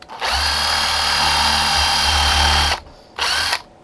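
A Dremel rotary tool drills lacing holes through a frame, a loud steady high whine for nearly three seconds, then a brief drop before a short second burst of drilling.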